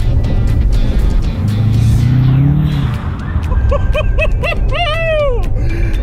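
A Corvette fitted with saw blade tires drives fast across a frozen lake, its engine roaring loudly and steadily throughout, with a rising whine, rumbling road noise and short harmonic squeals near the end.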